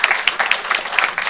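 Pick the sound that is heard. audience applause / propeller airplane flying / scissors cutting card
audience applause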